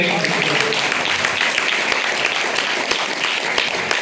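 A church congregation at a Christmas service bursts into sustained applause, dense and loud clapping from many hands filling the hall evenly for several seconds.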